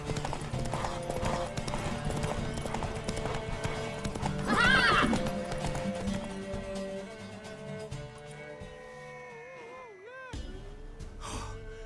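Horse hooves clip-clop at a steady gallop in The Witcher 3, with a neigh and whinny about midway and music playing throughout, then the hoofbeats slow toward the end.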